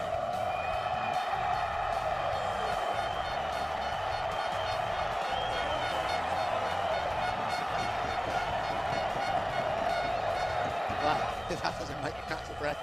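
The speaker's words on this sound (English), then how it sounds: "Crowd are on their feet." Home crowd at the Assen MotoGP race roaring as Valentino Rossi wins on his Yamaha, a dense sustained cheer heard continuously beneath excited commentary.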